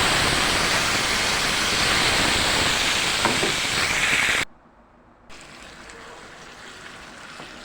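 Date paste drops into a pan of hot ghee and a loud, dense sizzling hiss fills the first half, then cuts off abruptly to a quieter, steady frying hiss.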